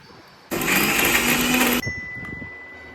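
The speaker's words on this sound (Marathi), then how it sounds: "मिक्सर मधून शेंगा बारीक करून घेऊ" A mixer grinder whirs loudly for just over a second, grinding cooked drumstick pods (moringa) in a home kitchen, starting abruptly and cutting off sharply into quiet.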